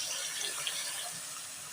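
Water pours steadily from a tap into a pot in a home kitchen while a boxed chicken dish is being cooked, a continuous soft hiss without a break.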